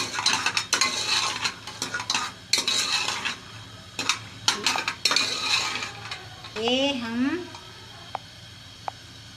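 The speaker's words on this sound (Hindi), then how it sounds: "ये मखाने, ये देखें, ये हमने इसे ऑयल के अंदर तल लिया है।" Makhana (fox nuts) stirred in hot oil for panjiri, with repeated bursts of utensil scraping and clinking against the pan over a faint frying hiss, and someone speaking briefly near the end.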